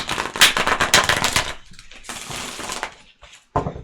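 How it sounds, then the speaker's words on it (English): Tarot cards being shuffled by hand, a rapid papery riffle with quick clattering bursts that stop and start again, close and fairly loud with brief gaps between runs. "I didn't like that shuffle, so I'm going to do it again."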